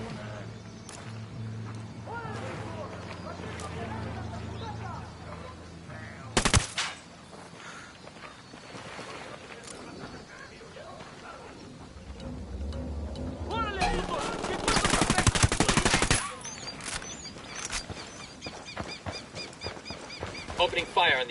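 Automatic and rifle gunfire rattles in the Ghost Recon Wildlands open beta during a fight with cartel gunmen around a barn, with sharp bursts and a long sustained volley over ambient game sound, while players talk over it.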